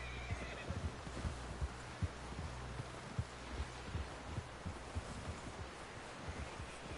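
A horse in the video game Red Dead Redemption 2 snorts and whinnies faintly amid wind and scattered hoof knocks, with no talk over it.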